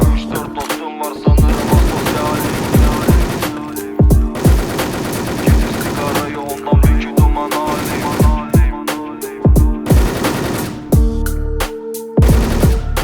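Rapid automatic gunfire from the online shooter Wolfteam crackles loudly in repeated bursts of sharp shots, with short gaps between volleys and no clear talk over it.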